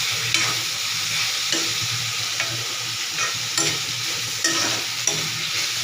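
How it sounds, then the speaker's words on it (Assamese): Vegetables being stirred in a sizzling pan with a ladle, steady frying hiss broken by several distinct scraping strokes of the ladle at irregular intervals, close and fairly loud, no talking. "পূৰা হাতাই অলপ লৰাই দিব"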